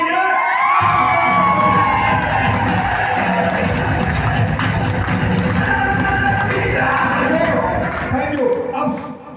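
A large crowd gathered under a pandal at a motivational event cheers, whoops and claps loudly and continuously, the roar tapering slightly toward the end.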